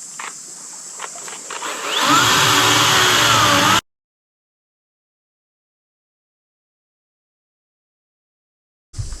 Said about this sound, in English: but I brought my little battery chainsaw.